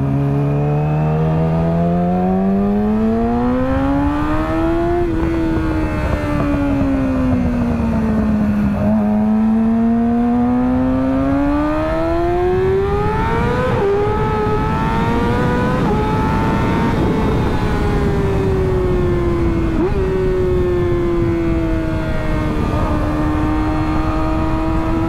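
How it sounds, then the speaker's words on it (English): A car drives around town with its engine loud and near throughout, the pitch rising and falling with repeated acceleration and gear shifts, and no one speaks. "I'm gonna ride around for a second and then I'll go"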